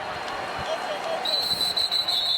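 A referee's whistle sounds at a college football game between North Carolina and Miami, a sustained shrill tone over the crowd's steady roar, with thumps and a commentator's voice in the background.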